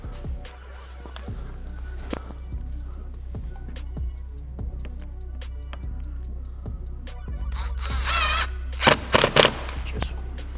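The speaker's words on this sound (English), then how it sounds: "I'm now going to just drill all the way around every single hole that Urban have supplied in the splitter" A power drill bores rivet holes in a Range Rover Sport front splitter. Faint regular ticking comes first, then a few short, loud, close drilling bursts near the end.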